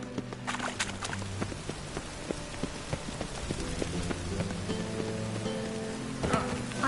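Rain falls steadily in The Witcher 3 game world, a soft patter and crackle over a low bed. Scattered hoof clops and quiet background game sounds run beneath it, with no talking.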